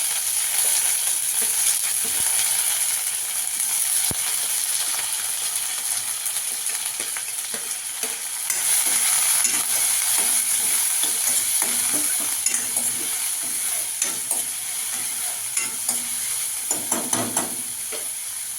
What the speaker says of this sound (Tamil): இப்போ எண்ணெய் கொதிக்க ஆரம்பிச்சிருச்சு